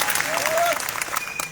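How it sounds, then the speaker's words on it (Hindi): Crowd applause at a large tribal cultural gathering in Dharivad, a dense wash of many hands clapping steadily over the whole stretch, with a faint whistle-like tone gliding through the noise. "तो एक बार इनके लिए भी तालियां बजाई जाए"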